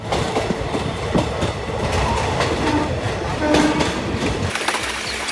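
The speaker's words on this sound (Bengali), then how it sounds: "পাশ দিয়ে আরেকটি ট্রেন চলে গেল" Loud rumble and rhythmic clatter of a train rushing past close by, wheels clacking over the rails before the noise drops off at the end.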